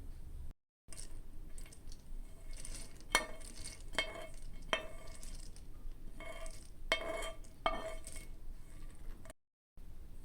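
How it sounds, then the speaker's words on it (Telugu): Sunflower seeds dry-frying in a pan for a protein laddu, a quiet continuous rustle with periodic scraping strokes of a spoon stirring the seeds against the metal. "నెక్స్ట్ సన్ఫ్లవర్ సీడ్స్ ఫ్రై చేసుకున్నాం"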